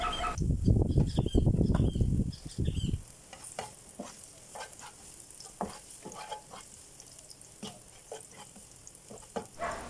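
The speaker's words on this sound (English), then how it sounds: "First she's going to heat up a little bit of garlic in a pan with some oil." Garlic frying in oil in a pan, with loud stirring and scraping for the first few seconds, then a steady close sizzle and scattered crackling pops.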